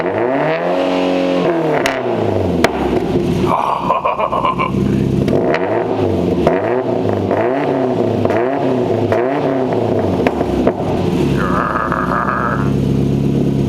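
A Subaru Legacy GT with an STI exhaust revs hard several times in a row, rising and falling sharply, loud and close, with a brief higher whine between blips.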